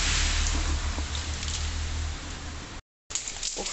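Rain falls outdoors on a patio with a table and chairs, a steady, dense hiss that runs without a break, cuts out briefly near the end, then resumes.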